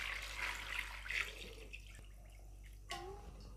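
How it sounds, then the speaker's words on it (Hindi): Water poured into a bowl of chicken marinated in green chilli and vinegar, a soft splashing trickle that fades, with a faint steady hum underneath and a voice near the end. "अब ये मैंने इसमें पानी डाल दिया है"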